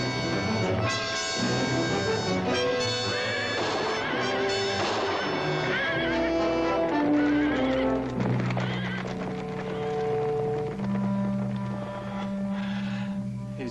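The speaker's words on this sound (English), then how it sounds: "He's turned out the horses." Several horses neigh and whinny with clip-clop hooves as they are turned loose, a loud continuous tumult of overlapping calls and hoofbeats over a dense, musical background.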